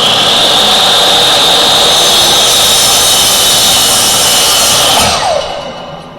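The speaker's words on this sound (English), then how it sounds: "I'm going to make my cut now." Miter saw cutting a clamped piece of material: a loud, steady high whine runs for about five seconds, then winds down as the blade slows after the cut.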